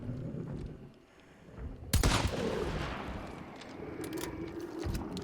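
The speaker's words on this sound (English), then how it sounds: "Alright, it's just a shotgun." A single loud, close shotgun blast in the first-person shooter Hunt: Showdown cracks out after a quieter stretch, followed by a rumbling decay and lingering ambient noise.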